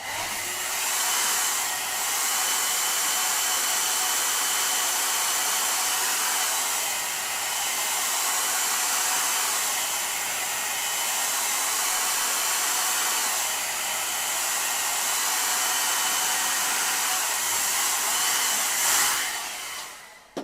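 A hair dryer blows steadily over a watercolour painting, a loud, continuous whooshing roar that holds for about twenty seconds with only slight swells and no talking.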